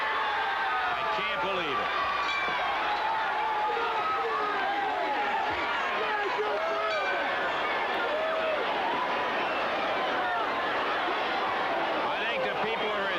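A wrestling arena crowd reacts in a loud, sustained roar of cheering and murmuring babble after a tag team match ends, with someone speaking briefly over the noise.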